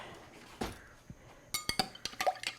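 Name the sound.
stirring a bourbon pumpkin cocktail in a glass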